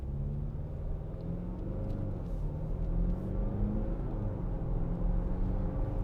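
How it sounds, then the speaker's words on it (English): A 2018 Jaguar F-Pace 2.0d R Sport automatic AWD SUV driving along, with a steady low diesel engine drone whose pitch dips and rises through a smooth gear change, heard from inside the cabin. "Nice smooth gear change."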